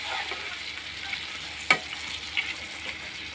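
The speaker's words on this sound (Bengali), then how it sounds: "এবারে আমি জল দিয়ে দেবো। জল দিয়ে ভালো করে নাড়িয়ে চাড়িয়ে" Curry being stirred in a pan after water is added, with a soft sizzle and bubbling beneath occasional scraping strokes of a spoon, fairly quiet and close.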